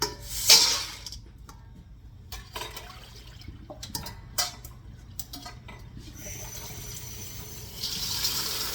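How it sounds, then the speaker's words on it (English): Water runs from a tap into a pot of beans being washed, a faint splashing stream with scattered clinks and knocks of the pot, ending in a steadier fill near the end. "I'm going to add more water and see if I can get it clean the second time."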